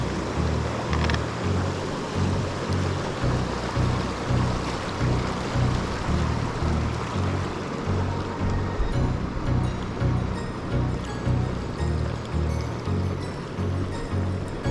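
Flowing water of Irons Fork Creek, a rocky creek on a trail hike, rushes steadily and loudly in a continuous broadband wash close by, with no talk over it.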